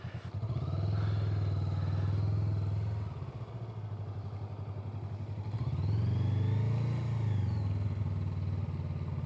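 A motorcycle pulls away gently in the friction zone under smooth throttle, its mid-pitched engine droning steadily, easing off briefly, then swelling again as it rolls on, close and continuous with no talk.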